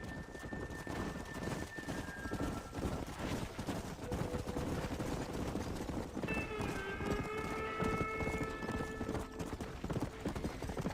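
Steady clip-clop of several horses' hooves at a brisk pace, with faint tonal whistling sounds drifting in and out behind, from the video game Red Dead Redemption.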